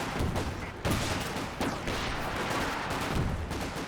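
An artillery smoke barrage lands in a Company of Heroes 2 match, with several dense, crackling impact bursts in quick succession over a busy background of battle noise and gunfire.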